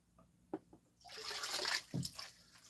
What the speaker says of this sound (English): Here, I'll put water back in here.